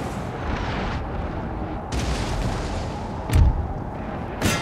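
Cannon fire from an artillery battery in the Napoleonic-era strategy game Napoleon: Total War, with a rumbling battlefield backdrop and a few sharp booming shots, one loud near blast standing out.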